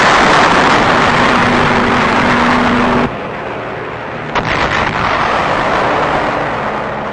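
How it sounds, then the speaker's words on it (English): Naval artillery from offshore fleet units firing on the Naha area of Okinawa in 1945, heard as a loud, sustained roaring rumble that drops abruptly in level, followed by a sharp distant report. "Offshore, supporting units of our fleet execute fire missions against the Naha area."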